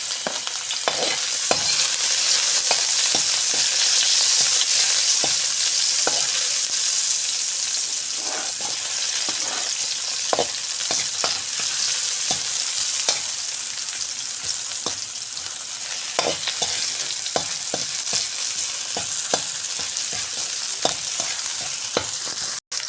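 Pechay greens being sautéed and stirred in a pan for Bicol-style pancit bato, a steady loud sizzle with frequent scraping stir strokes throughout.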